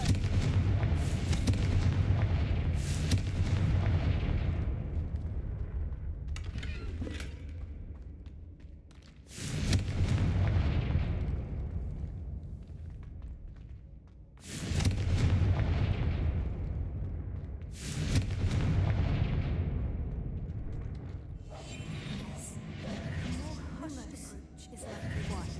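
Repeated heavy blasts of the Confringo explosion spell in Hogwarts Legacy, four or five booming bursts that each decay into a rumbling tail, loud and close.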